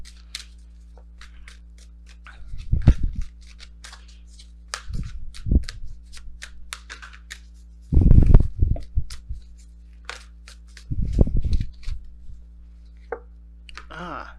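Tarot oracle cards are shuffled and pulled in short bursts of crisp papery riffling and slaps, four or five separate clusters close by in a quiet room, with a few soft voice sounds between them.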